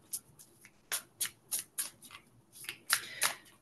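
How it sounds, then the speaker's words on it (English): Tarot cards shuffled by hand in short, crisp riffling bursts, about eight quick swishes with small pauses between, close and fairly quiet with no talking. "as I shuffle for the first card"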